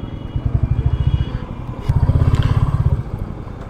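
A Royal Enfield Classic 350 single-cylinder engine thumps loudly and close in two rapid pulsing bursts during a drag race against a Yamaha R15 V3, with clattering mechanical texture and no talk.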